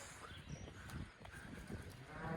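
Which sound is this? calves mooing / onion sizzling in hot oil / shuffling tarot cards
calves mooing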